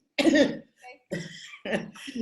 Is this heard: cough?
yes